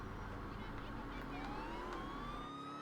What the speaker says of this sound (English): let's put on the siren for a second